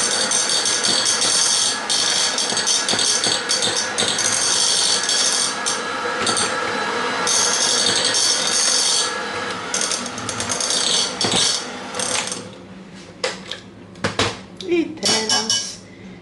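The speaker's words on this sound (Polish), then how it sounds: "Białka już mam ubite, dodaję kisiel i cały czas mieszam." Whipped egg whites being stirred together with kisiel jelly in a bowl, with continuous scraping and clinking of a utensil against the dish, loud and busy at first, then thinning into sparser knocks and taps.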